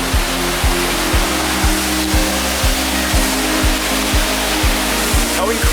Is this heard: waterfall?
yes